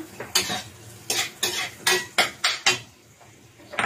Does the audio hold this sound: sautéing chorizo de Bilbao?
yes